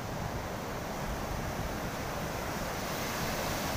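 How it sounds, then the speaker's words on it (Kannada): Sea waves crash and surge continuously at Murudeshwar beach, a loud, steady roar of surf with wind rushing across the microphone, no voices present. "ಅಲ್ಲೊಂದು ಹಿಂದ್ಗಡೆ ತುಂಬ ಜೋರಾಗಿ ಒಂದು ಅಲೆ ಬರ್ತಾ ಇದೆ ನೋಡಿ"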